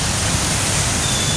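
Heavy, unbroken rain pours down during a typhoon, a dense steady hiss filling the whole moment at constant loudness with no pauses.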